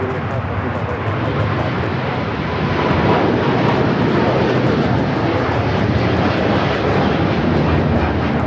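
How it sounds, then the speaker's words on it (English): A China Eastern Airlines Boeing 777-300ER, flight 586 to Shanghai, takes off at Los Angeles (LAX), its loud, steady engine roar filling the air and swelling slightly partway through, with wind buffeting the microphone. "This is China Eastern Airlines 586 taking off to Shanghai on the 777-300ER."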